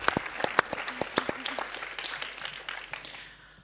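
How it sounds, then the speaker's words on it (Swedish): Audience applause at a school web-awards prize ceremony, with sharp individual claps up close over a crowd of hands, a voice briefly heard, fading out at the end. "Ni får applådera."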